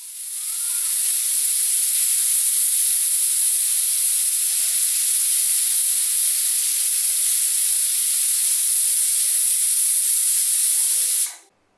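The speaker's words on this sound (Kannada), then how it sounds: "ಇವಾಗ ಕುಕ್ಕರ್ ಪ್ರೆಷರ್ ಬಿಟ್ಟಿದೆ" A pressure cooker holding ghee rice vents steam in one loud, continuous, high-pitched hiss lasting about ten seconds before cutting off, with no voices.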